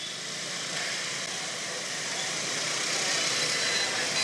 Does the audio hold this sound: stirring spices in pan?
no